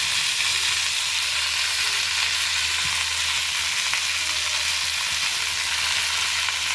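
Moringa leaves fry in oil with chillies and tamarind, giving a steady, loud, broadband sizzle that runs unbroken and fairly close throughout, with faint stirring clinks and no voices.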